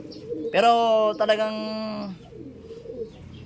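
Racing pigeons coo softly at close range while someone talks over them, his voice dominating the short stretch.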